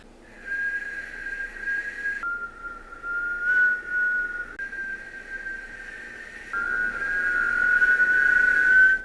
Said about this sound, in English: I can kind of whistle, but I can only whistle one note